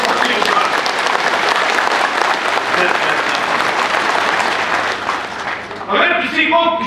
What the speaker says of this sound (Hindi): अगर किसी को भी कोई अगर ताली मारनी है तो जोर से बजाइए।